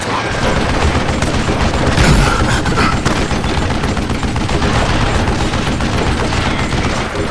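Dense, continuous gunfire from the Call of Juarez Gunslinger video game, a loud sustained barrage of rapid shots with booming bursts, heard alone without talk.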